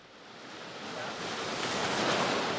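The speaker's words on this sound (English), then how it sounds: "the sound of melting water rushing off the glacier turned into a roar" Glacier meltwater torrent rushing off the ice in a steady, dense roar that swells gradually louder, with no voices over it.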